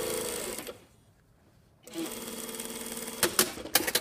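A sewing machine stitching a shirt yoke seam, steady whirring stitching that stops briefly, then resumes with a few quick bursts near the end.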